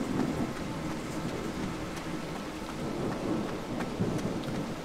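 Thunderstorm in Pineview Drive, a steady wash of rain with low rolling rumbles of thunder swelling and fading throughout, no voices.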